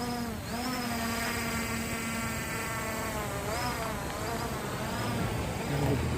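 A Hubsan X4 H501S brushless drone hovers in flight with a constant high-pitched buzzing whine whose pitch shifts slightly as the motors adjust, steady and fairly close.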